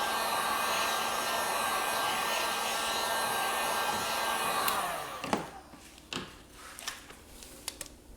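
A heat gun blows steadily while heating a knee pad panel to activate its glue during a snowmobile knee pad kit install on an Arctic Cat Catalyst, a constant close airy roar that cuts off midway, leaving a few sharp knocks and taps.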